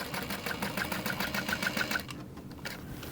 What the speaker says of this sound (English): So I'm gonna back stitch at the top